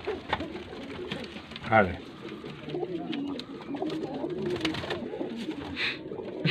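Racing pigeons coo in low, rolling calls from close by, steady throughout, while someone talks over them.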